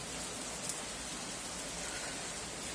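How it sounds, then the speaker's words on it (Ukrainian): Steady rain pours down over a freshly hilled potato garden, a dense, even hiss with soft patter and no voices, lasting the whole moment. "Це манна небесна, що такий пішов дощик."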